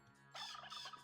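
Turkeys gobble in the video game Age of Empires II: The Conquerors, a short faint burst of warbling gobbles with a quiet hum underneath and no talking.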